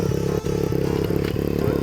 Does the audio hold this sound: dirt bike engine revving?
yes